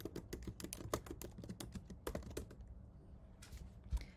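Rapid keystrokes on a computer keyboard as a git command is typed into a terminal, a close, busy clatter of individual key taps that thins out briefly before a few final presses.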